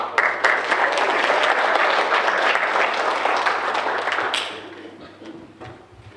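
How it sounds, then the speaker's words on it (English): An audience at a youth speech contest claps for a speaker, a fairly close, lively round of applause with a few distinct taps and thuds that cuts off sharply partway through, leaving a quiet room. "So give her a round of applause."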